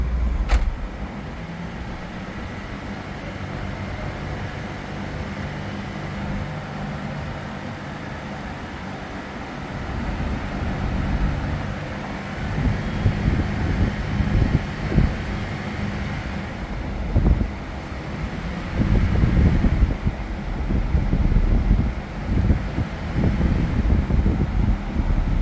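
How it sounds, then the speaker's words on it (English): A car engine idles steadily with a fan whirring, then rises into deeper, rougher bursts of revving as the accelerator is pressed during AC gas charging. It is close and continuous, and no one speaks. "I will just push the accelerator and see if there is any missing."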